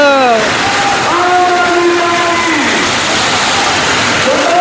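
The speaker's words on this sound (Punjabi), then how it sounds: "ਬਹੁਤ ਜ਼ਿਆਦਾ ਮੀਂਹ ਪੈ ਰਿਹਾ ਹੈ" Heavy rain pours down at an outdoor political rally in Punjab, a loud, unbroken roar of downpour filling the whole scene, with sustained voice or horn tones sliding over it.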